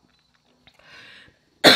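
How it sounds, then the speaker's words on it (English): A single short, harsh cough bursts out at the very end after near silence and a faint breathy murmur, close and fairly loud. "coughing attack"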